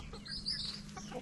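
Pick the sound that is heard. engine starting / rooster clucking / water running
rooster clucking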